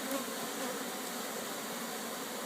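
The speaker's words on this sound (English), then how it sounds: "Have you each come up with a frame of brood with bees on it and shake it into the box" A dense, steady swarm buzz of many honeybees right up close, from bees shaken off a brood frame into a box during queen rearing. It holds evenly throughout with no talking.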